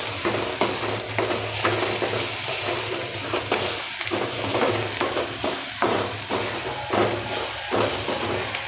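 Onion curry stirred in a pan while it fries, a steady sizzle with frequent spoon scrapes and clatters at a close, even rhythm.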